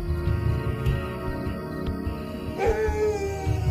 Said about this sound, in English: The guard dog is aware of the hyena